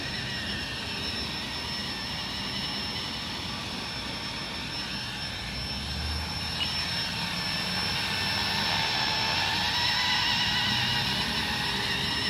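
A Blade 230s RC helicopter hovers at night, its motor and rotors making a steady whirring drone that holds constant for the whole stretch and swells slightly toward the end, with no talk.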